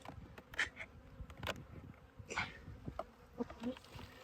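Honey bees buzz around an opened, long-abandoned hive, faint individual passes darting close by in quick bursts over a quiet background.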